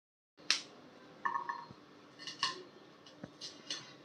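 Dishes being washed and scrubbed by hand in a home kitchen, with repeated clinks and clatters of utensils and crockery at close range over a steady rinsing hiss, the sharp knocks coming in irregular bursts.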